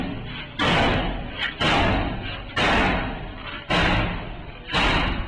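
A soldier breaking down a door with a hammer, five heavy, loud slamming blows at irregular intervals, each a booming thud that rings and decays before the next strike.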